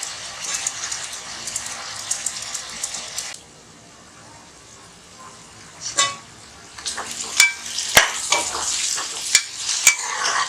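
Mutton biryani ingredients frying and being stirred in a pan, a steady sizzle with scraping and clinks of a utensil against the metal, close and fairly loud, with a quieter pause partway through.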